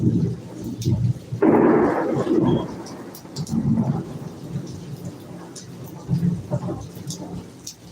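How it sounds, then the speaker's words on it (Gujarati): Low rolling thunder rumbles through a steady wash of heavy rain, with a loud crack of thunder surging early on. "ફૂલ વીજ ગાજવીજ સાથે વરસાદ"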